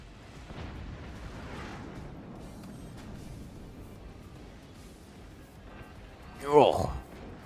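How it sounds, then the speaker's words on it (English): Howitzer fire and explosions in the strategy game Forts: muffled distant booms and rumbles under a low bed of noise, then one louder burst with a falling whistle near the end, with no talk. "Howitzer from on high."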